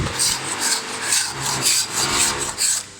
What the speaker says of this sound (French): on est sur un chantier en même temps